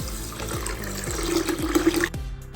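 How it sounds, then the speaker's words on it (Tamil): Water pours steadily into a container of rice to soak it, a continuous splashing flow that cuts off abruptly at the end. "தண்ணி ஊற்றி வச்சுருவோம், ஊறட்டும்."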